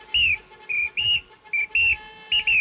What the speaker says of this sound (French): j'ai un petit sifflet qui est tout neuf